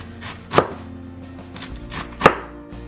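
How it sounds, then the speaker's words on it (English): A knife slices cabbage and onions thin on a cutting board, with two sharp, distinct chops and softer cutting taps between them. "the cabbage and the onions have to be sliced super thin. So I take this here, and with my knife I do like this"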